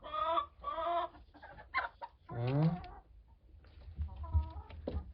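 Hens in a coop cluck and squawk in short, nearby bursts, several birds calling in turn with a longer drawn-out cackle in the middle and scattered softer clucks after.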